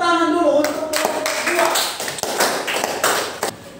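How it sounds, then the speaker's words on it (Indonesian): Classroom applause for a student group that has just presented, a dense patter of many hands clapping after a brief teacher's voice at the start, holding steady and close for a few seconds. "kita beri tepuk tangan dulu untuk kelompok"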